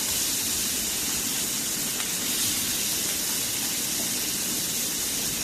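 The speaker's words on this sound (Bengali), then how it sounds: "তো সেই মাছটা এখন দিয়ে দিব ভাজার জন্য।" Poa fish sizzling loudly in hot oil on a flat griddle pan, a dense, unbroken crackling hiss that stays close and steady throughout.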